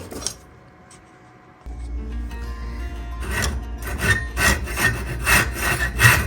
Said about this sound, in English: Ended up going back to the Japanese pole saw. Much easier and a cleaner cut